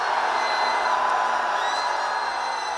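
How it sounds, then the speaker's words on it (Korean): A large outdoor rally crowd roaring and cheering in unison on command, a dense sustained wall of shouting voices that holds steady and loud throughout. "전방을 향해 함성!"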